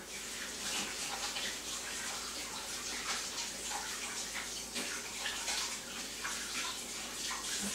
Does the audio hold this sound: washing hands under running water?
yes